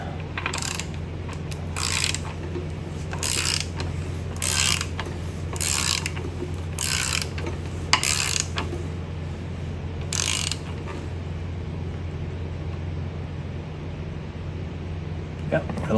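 LS V8 5.3 engine crankshaft turned slowly by hand during a camshaft swap, giving a series of about seven sharp ratcheting bursts at regular intervals over a steady low background hum.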